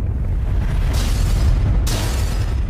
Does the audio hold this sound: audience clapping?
no